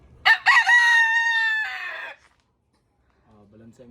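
A rooster crows once nearby, a loud drawn-out call lasting about two seconds, followed by silence and then faint voices talking.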